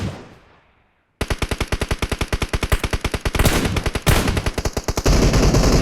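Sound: machine gun firing in video game PUBG Mobile

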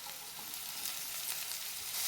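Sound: garlic frying in ghee and being stirred

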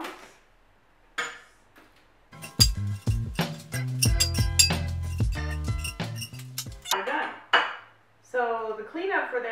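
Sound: tongs removing potatoes from an oil-less fryer's wire racks

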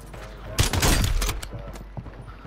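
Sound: gunfire from a gun in Call of Duty, video game

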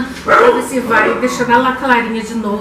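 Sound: dogs barking

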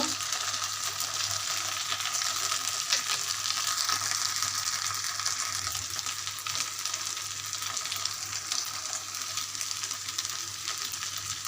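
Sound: cooking khichuri in a pan

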